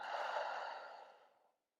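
A long, deep exhale during a yoga session, a soft breathy rush that holds steady and then fades out over about a second and a half, close and quiet with no talking.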